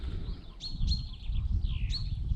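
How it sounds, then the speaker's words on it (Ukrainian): Several short bird chirps ring out beside a fishing pond in spring, over steady low outdoor rumble, a few bright calls spaced a second or so apart. "Пташки співають."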